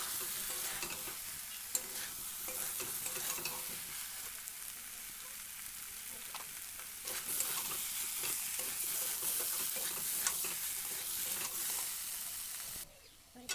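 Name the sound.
stirring boiled potatoes frying in a pan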